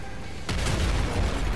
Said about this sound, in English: Sticky launcher.